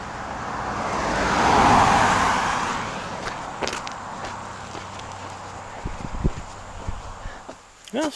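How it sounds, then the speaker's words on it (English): A car passes on a rural road near a hiking trail, its tire and engine noise swelling loudly to a peak and then fading away, with footsteps and faint outdoor sounds continuing afterward. "Got some traffic coming."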